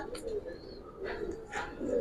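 Two Giribaz pigeons in a loft give soft, low throaty coos in a few short bursts, close by, with some faint voice and background noise around them.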